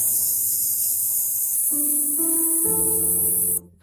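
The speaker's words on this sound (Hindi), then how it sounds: "तो अब हम इस पर प्राइमर का स्प्रे करने के लिए तैयार हैं" Primer sprayed from a can onto a sanded Lamborghini car body gives a steady, loud hiss that runs unbroken for several seconds and then cuts off abruptly, with tonal sounds beneath it.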